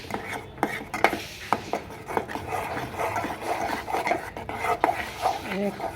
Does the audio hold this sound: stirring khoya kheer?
yes